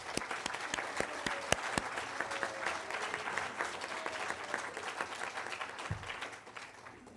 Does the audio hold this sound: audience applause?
yes